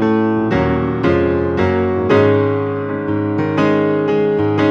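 Piano chords ring out one after another, sustained and resonant, the harmony shifting upward partway through as it moves into a new key.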